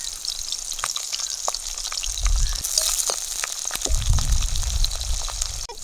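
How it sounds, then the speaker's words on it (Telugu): Curry leaves hit hot oil for an egg and drumstick curry, bursting into a loud, close, steady sizzle with crackling pops and a few stirring scrapes, and no voice over it. "కరివేపాకు కూడా వేస్తున్నా"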